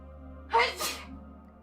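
A single sharp sneeze bursts out over steady low background hum, with a quick explosive onset and a brief breathy tail.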